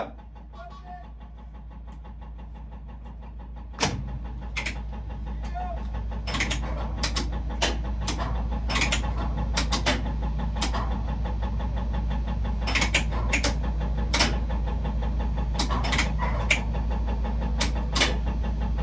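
Tower crane machinery runs with a constant heavy low drone, overlaid by irregular sharp metallic clicks and clanks throughout.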